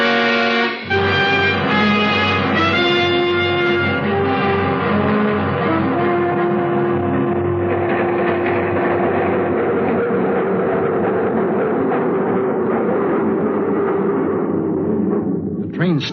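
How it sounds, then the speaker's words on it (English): Radio drama train sound effect: a loud, steady rumbling rail roar with clanking and hissing layers that slowly winds down as the train comes to a stop, then a brief sharp sound right at the end. "The train stopped at the 59th Street station"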